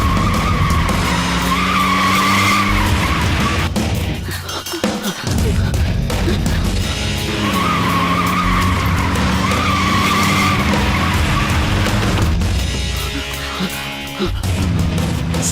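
A car speeds off with its tires skidding, giving a loud, sustained screech over a roaring engine close by. The sound dips briefly partway through, then surges back and keeps going to the end.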